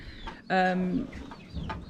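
Chickens on a homestead in a Bulgarian barnyard, kept in a pen, give a short close burst of clucking. A brief, loud harmonic cluck sits among quieter background bird sounds.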